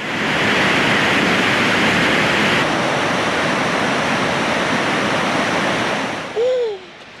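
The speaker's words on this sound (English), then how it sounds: "It makes such a difference to that river down there." A river swollen after days of rain roars steadily in Perthshire woodland, a loud, continuous broadband rush close by that fades slightly near the end as a short whistle-like tone rises over it.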